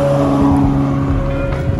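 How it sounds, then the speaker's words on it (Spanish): A car rolls past on a Munich street, a loud, steady engine hum with low tonal drone close to the microphone over about two seconds. "Otro coche casual por Múnich."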